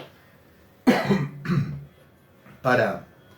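A person with an illness coughs several times in a small room, three separate harsh, close bursts with brief pauses between them.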